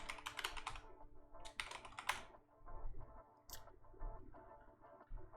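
Fast keyboard typing on a computer while building an event in RPG Maker MV, arriving in two quick bursts of clattering keystrokes followed by sparser taps against a steady low background hum.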